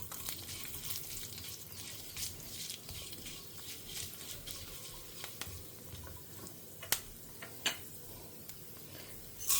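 Black pepper and asafoetida with fenugreek frying in hot oil, a steady soft sizzle with faint crackles and a few sharp ticks, close up and without any talk.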